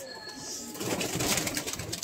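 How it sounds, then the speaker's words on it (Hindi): Gola pigeons cooing after being caught from a net, soft low coos that build up partway through and are joined by a rustle of wings and handling close by, with no speech. "लाओ आज पकड़े हुए कबूतर दिखा दे, निकालो जाल से"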